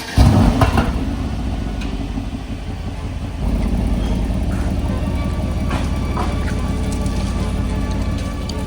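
Mercedes-AMG GLC63 S on air suspension, its engine a steady low rumble that swells slightly partway through as the car pulls away, with road and cabin noise and no talk.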